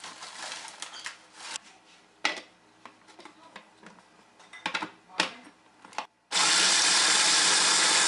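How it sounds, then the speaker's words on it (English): Pork rinds being ground down into fine crumbs: scattered rustling and clattering handling sounds come first, then a loud, steady whirring grind starts abruptly and carries on to the end. "start by grinding down the pork rinds"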